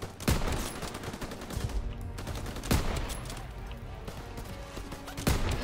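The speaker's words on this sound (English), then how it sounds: "I'm only firing the littlest amount I have to." Gunfire in the World War II shooter Call of Duty WWII: heavy bursts of rifle and machine-gun fire strike at roughly two-second intervals over a continuous rumble of battle, with a voice faintly present.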